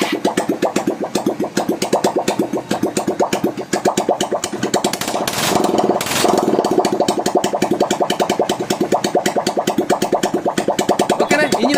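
A TVS Apache 160 motorcycle engine with a worn crank rod runs with a loud, steady, rapid knocking beat throughout, briefly revving up and smoothing out mid-way before settling back into its rhythmic pulse.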